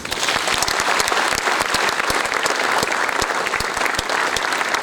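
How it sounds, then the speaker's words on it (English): A hall audience at an IIM Calcutta freshers' welcome applauds a guest speaker, with steady, dense clapping throughout and individual claps standing out. "Sri Shyam Srinivasan, with a round of applause."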